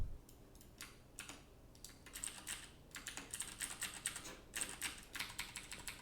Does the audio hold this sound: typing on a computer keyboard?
yes